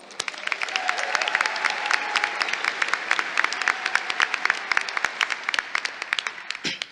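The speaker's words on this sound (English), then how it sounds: "Let's give ourselves a round of applause." Graduates clap at a business college commencement, a crowd's applause with sharp individual claps standing out across the whole span and a faint voice briefly heard beneath.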